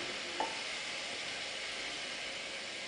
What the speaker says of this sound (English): because it's boiling, I'll reduce it to a light simmer